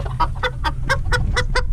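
A Cuban rooster and two red hens cluck in a steady series of about seven sharp, evenly spaced calls, fairly close, over a low rumbling background hum.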